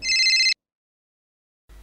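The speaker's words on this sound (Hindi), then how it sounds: "लो, ये आ गया फोन।" A telephone rings at home with a loud half-second electronic trill, then goes silent for over a second before the next ring begins.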